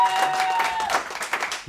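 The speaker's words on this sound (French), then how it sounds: "Steve, on applaudit 2 fois" Dense applause from a poetry slam audience fills the whole short stretch, a loud wash of many hands clapping at close range with a brief tone in the background.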